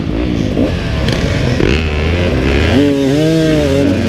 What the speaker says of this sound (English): I just revved it, dumped the clutch.